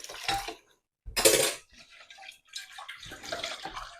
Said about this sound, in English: I'm gonna rinse my rice